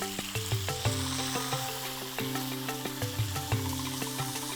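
Beef browning in oil in a hot pan, a dense steady sizzle with crackles and pops, plus a few soft stirring knocks, close up and alone.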